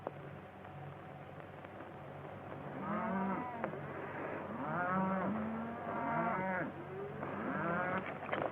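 A herd of cattle moos in a western ranch scene, several drawn-out lowing calls in succession at moderate distance over a soft, hissy old film background.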